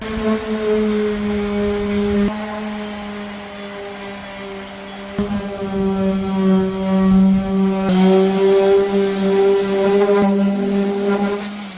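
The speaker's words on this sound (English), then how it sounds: "let's get started sanding" A power sander works the bodywork of a 1989 Chevy K1500 truck, giving a loud steady whine with strong tonal hum that cuts out briefly and restarts several times.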